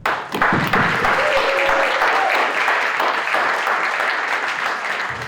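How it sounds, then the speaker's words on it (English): Steady applause fills a cultural performance event, a dense wash of audience clapping that holds at an even level for several seconds with no talk over it. "Give yourself another round of applause."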